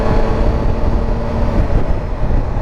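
A Triumph Tiger 1200 XRT motorcycle at medium throttle drops from fifth to fourth gear with its quick shifter, its dense, loud engine roar running continuously with a brief shift in tone midway and no voices.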